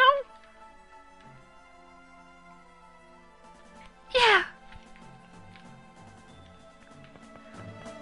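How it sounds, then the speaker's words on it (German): Game cat meowing in Tales of Symphonia, a short meow at the very start and a louder, longer meow about midway, set over quiet background game music. "Miau."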